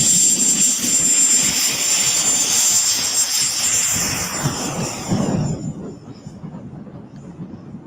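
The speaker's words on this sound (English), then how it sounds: "Sounds like a turbine, doesn't it? Yeah. 12 cell EDF." A radio-controlled 12-cell electric ducted fan jet flies past, its high turbine-like whine and rushing roar loud at first, then fading away as it recedes into the distance, with no speech.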